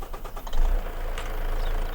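A Volvo truck engine in a farming video game, a low, steady rumbling idle with knocking pulses, rising slightly in loudness and holding alone without talk.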